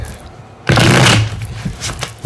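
Plastic PVC tarot cards are shuffled up close during a reading, giving one loud, dense riffling burst of about half a second, followed by quieter sliding and tapping of the deck.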